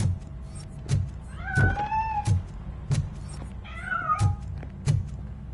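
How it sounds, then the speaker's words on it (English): A cat in the video game Robocop Rogue City gives two rising-and-falling meows, heard alongside regular heavy thudding footsteps or knocks and low mechanical ambience. "That cat must be hiding inside."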